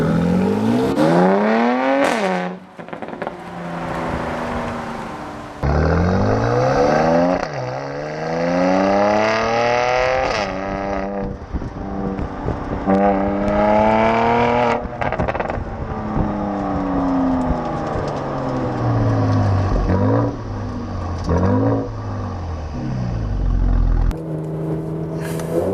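The engine of a 2017 Mercedes C43 AMG roars loudly through repeated accelerations, its pitch sweeping up through several gear changes with brief pauses between pulls.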